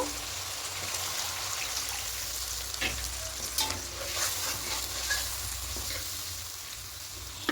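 Spice masala for doi katla curry frying in oil in a pan, a steady close sizzle with stirring scrapes and small crackles throughout, no talking.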